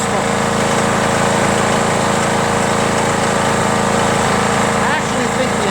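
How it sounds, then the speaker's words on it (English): A Craftsman push lawn mower with a Briggs & Stratton Quantum engine runs steadily with a droning, buzzing hum, loud and close, the engine running poorly with internal issues and some smoke. "I actually think the engine's not running very well. It's got some issues inside. I hear clanking."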